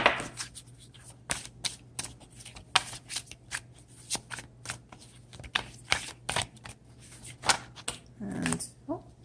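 A deck of oracle cards is shuffled by hand, a quick series of crisp riffling and slapping bursts in uneven rhythm, close and clear, with a small rustle near the end.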